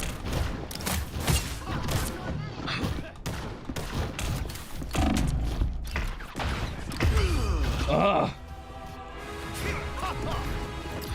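Rapid bursts of DOOM-style gunfire pound through a loud, busy soundscape of crashes and impacts, shots coming in close clusters over thick game music and effects, with a voice speaking faintly underneath at times.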